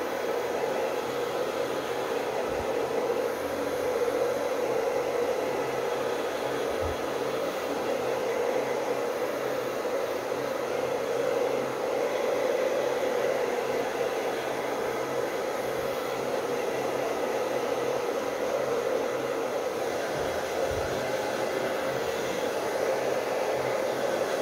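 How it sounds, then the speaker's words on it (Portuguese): A hair dryer blows a steady, continuous whooshing hiss for the whole stretch, drying paint on a decoupage craft plate, close and even in loudness with no talk. "Agora eu vou acelerar aqui o procedimento com secador de cabelo."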